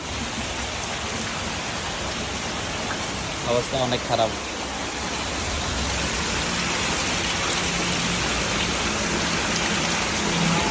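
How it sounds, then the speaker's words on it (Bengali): Heavy rain pours in a dense, constant hiss during flooding that is already pushing water into a shop. Someone speaks briefly partway through, and the downpour stays loud and unbroken beneath and after his words. "ঝুম বৃষ্টির কারণে"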